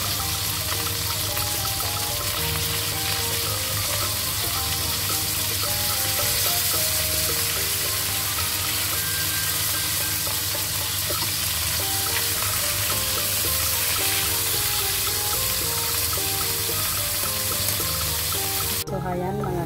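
Tiger prawns frying in a pan, a loud, continuous sizzle that holds steady for most of its length under background music before cutting off abruptly near the end.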